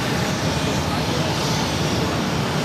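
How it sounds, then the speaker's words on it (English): An Airbus A330-200 jet taking off from Boston Logan, a loud continuous roar of engines filling the whole stretch without a break. "This is ETA 615 taking off to Rome on the A330 200."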